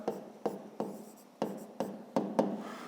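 A pen writes on paper during a fifth-grade math lesson, making close, soft scratching strokes in short rhythmic bursts, each beginning with a light tap, with no voices.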